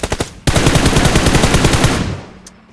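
A rapid burst of automatic gunfire in PUBG Mobile, a few quick shots followed by a dense, loud, evenly spaced stream of rounds lasting about a second and a half before stopping.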